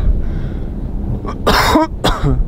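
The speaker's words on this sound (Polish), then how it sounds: "No i to jest właśnie ten kaszel, którego nie chcesz mieć. Suchy, nic nie wychodzi." Two harsh, dry coughs close together, sharp and near, after a short quiet breath-like lead-in, on a glacier at Mount Everest.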